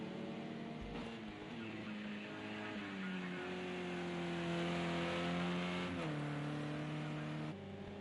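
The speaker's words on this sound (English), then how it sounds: "Listen to that car there, lovely." A race car engine in the Touring Car Championship video game revs and shifts through gears, its tone climbing and dropping in smooth harmonic sweeps, sustained and fairly quiet throughout.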